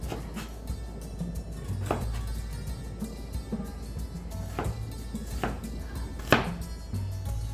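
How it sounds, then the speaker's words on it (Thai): A knife chops shallots on a cutting board in sparse, separate strikes, with steady low background hum and faint kitchen noise between cuts. "ผ่าหอมแดง ครึ่ง ลูก หั่นเป็นรูปสี่เหลี่ยม"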